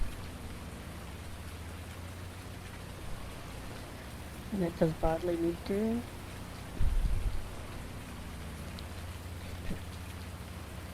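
Steady rain falling across a farmyard, a soft even hiss that runs the whole way through, with a short stretch of speech in the middle and a low thump just after it.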